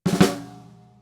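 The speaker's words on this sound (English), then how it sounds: "So 2 grace notes and a primary note is a rudiment we call a drag." A drag rudiment struck on a snare drum, two quick grace notes leading into a louder primary stroke, with the snare ringing and fading out afterward, close and alone.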